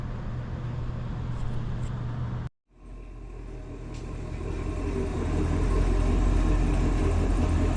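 A 1955 Mercedes 190SL with a full custom one-off chassis idles with a steady low rumbling engine note up close, briefly cut off, then resuming and growing slightly louder and fuller.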